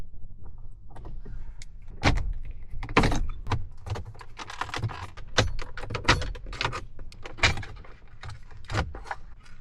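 Close, clicking and rattling plastic and metal handling noises from work on the factory gear lever in a Porsche Cayenne interior, a run of sharp irregular knocks and clacks with no talking.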